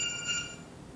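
A telephone rings with a bright electronic tone that rises and then fades over a single short burst, with no talking.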